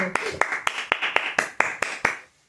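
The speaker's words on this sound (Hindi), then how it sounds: "इसी बात पे पहले हो जाएं तालियां" Hands clapping in a brisk, even rhythm, about nine sharp claps in a row, fairly close and moderately loud, then stopping abruptly into near silence.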